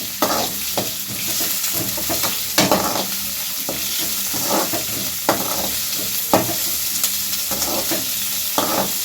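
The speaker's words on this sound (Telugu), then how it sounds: "జీలకర్ర, ఆవాలు, పచ్చెనగపప్పు బాగా వేగాక చిట్పట్లాడాక పచ్చిమిరపకాయ ముక్కలు, ఎర్రగడ్డలు, కరివేపాకు వేసేసుకున్నాం" Cumin, mustard seeds, chana dal, green chillies, onions and curry leaves fry in hot oil for jeera rice, a steady close sizzle broken by regular scrapes and clinks of a spoon stirring the pan.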